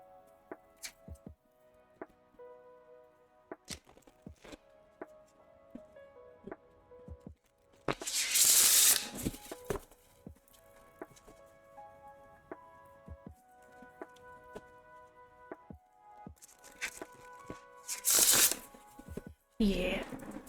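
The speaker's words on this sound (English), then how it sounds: "let me shuffle these decks really quick." Oracle card decks shuffled by hand in two bursts of riffling, each a loud crackling flutter lasting about a second, with scattered taps and card handling between them and a few soft spoken words.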